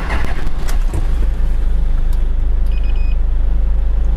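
A car engine cranks and catches after a car audio installation check, settling into a steady, loud low idle rumble close by, with a few short clicks and a faint electronic beep near the end; no one speaks.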